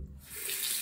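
Bathroom sink tap runs as water splashes for rinsing the face after a wet shave, a steady close hiss of flowing water rising in level, with no talking.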